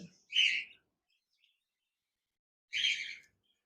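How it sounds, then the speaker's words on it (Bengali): Albino red-eye birds kept as a pair, giving two short bright chirping calls separated by a long silent gap, fairly close and clear with no talk. "অ্যালবেনো রেড আই বা জিগার পাখি রয়েছে রানিং পেয়ার"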